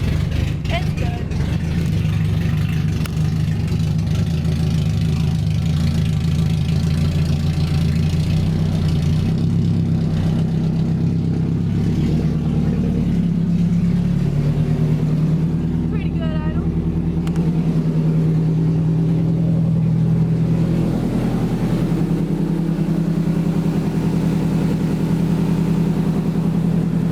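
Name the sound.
car engine running after fuel pump rewiring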